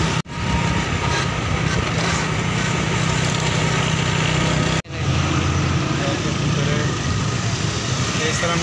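A motorcycle on the road gives a constant loud engine drone and wind rush while riding, with one brief dropout midway and a faint voice mixed in.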